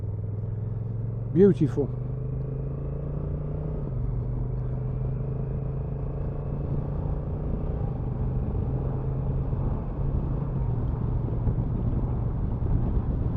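A new motorcycle engine drops through its gears, its low steady hum stepping down in pitch several times as it shifts, with wind rumble and a brief spoken word early on.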